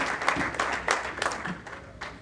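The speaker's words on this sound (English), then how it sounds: "Can we all give a loud round of applause for Manmeet?" A crowd claps steadily, a dense, lively round of applause close by.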